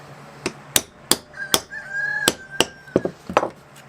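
A hammer drives a punch through the handle of a WW2 KaBar fighting knife, about a dozen sharp, close strikes in an uneven rhythm with a brief ringing tone between some blows.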